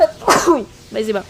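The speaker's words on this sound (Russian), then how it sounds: "Сейчас чихнуть надо." A woman's single sharp sneeze during a gaming session, loud and close, followed by a short spoken word.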